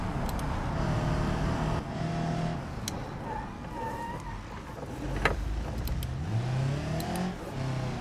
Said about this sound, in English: Wow, this car is really loud.